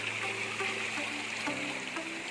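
A river flowing beside a path to a garden plot, a steady continuous wash of moving water, fairly close and even throughout, with no talking.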